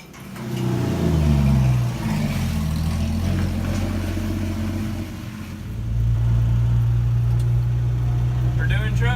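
A 1964 Dodge D100 pickup engine revs up in a yard shakedown, rising and falling through a couple of throttle blips, then settles into a steady, loud, close drone, with talking over it.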